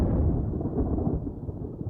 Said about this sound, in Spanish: Estas nubes presagian una gran tormenta.